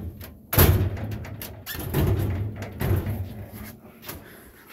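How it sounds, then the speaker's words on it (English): A heavy-duty 72-inch US General Series 3 tool chest drawer without soft-close shuts with one loud, solid thud near the start, followed by fainter metallic rattles and bumps. "It's not a soft close, as you can see, but I don't mind it because it is heavy duty"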